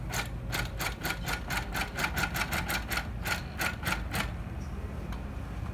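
An HQ Amara longarm quilting machine basting across a quilt, making a quick run of evenly spaced mechanical stitching clicks that stops partway, over a low steady motor hum.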